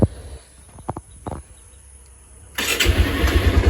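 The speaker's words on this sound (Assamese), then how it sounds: "মই এই গাড়ীখনৰ এবাৰ আপোনালোকক ষ্টাৰ্ট কৰি কিনে দেখুৱাই দিছোঁ, আৰু চাউণ্ডটো শুনাই দিছোঁ" A secondhand 2018 Bajaj Pulsar motorcycle is started: a few short mechanical clicks and cranking bursts, a brief lull, then the engine catches and settles into a loud, close, rumbling run.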